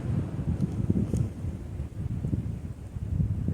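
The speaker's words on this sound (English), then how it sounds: "And as I say that, the wind picks up." Wind gusts through trees along the Appalachian Trail in spring, a steady low roar with rushing surges and microphone buffeting, close and loud with no talking.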